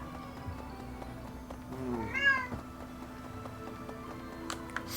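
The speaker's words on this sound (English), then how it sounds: "Whoops, that was a cat, not the sparkly." A cat in the video game Fire Emblem Three Houses gives a single clear meow partway through, rising and falling briefly over a quiet game background.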